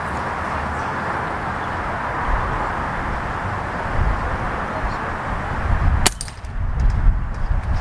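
A Gzk Smoant slingshot is fired at a target outdoors: one sharp, snappy crack stands out against a steady background hiss and rumble.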